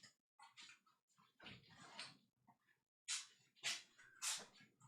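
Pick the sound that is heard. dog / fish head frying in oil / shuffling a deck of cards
dog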